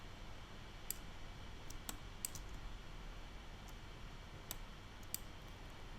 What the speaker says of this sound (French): Je clique à côté de tout, rien n'est sélectionné.